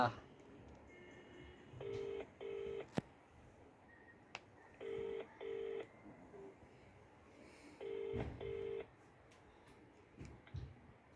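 A telephone ringback tone sounds in three paired bursts, ring-ring, with pauses between, over faint background noise.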